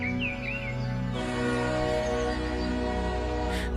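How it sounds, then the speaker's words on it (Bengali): A train whistles as it enters a distant station, a sustained tonal blast held steadily for several seconds, with a brief bird chirp at the start. "দূরের স্টেশনে ট্রেনটা একটা হুইসেল মেরে ঢুকল"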